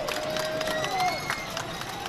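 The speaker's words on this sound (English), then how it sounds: "Fairfield Ludlow crowd getting a bit riled up." Spectators at a Fairfield Ludlowe high school varsity football game murmur and cheer as a broad, steady crowd roar, with a whistle-like tone cutting through and a voice talking over it.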